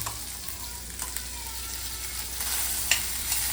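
Spice-marinated pomfret fries in a pan with a continuous close sizzle, broken by a few small pops and clicks.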